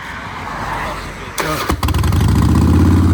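A motorcycle engine cranks and catches after a throttle push-pull cable swap during a roadside rescue, settling into a loud, steady, close idle that rumbles over the earlier background noise.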